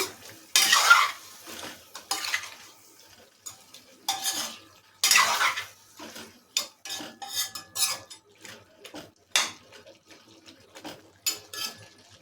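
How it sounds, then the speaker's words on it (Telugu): Raw chicken pieces for a chicken fry are tossed and mixed with salt in a bowl, giving repeated bursts of spoon scraping and wet clinking at close range, with short pauses between strokes and no talking. "ఈ సాల్ట్ అంతా కూడా బాగా ముక్కకు పట్టేటట్టు కలపండి"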